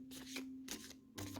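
Deck of oracle cards being shuffled by hand, soft riffling and sliding bursts in three short bouts separated by brief pauses, close and quiet with no voices.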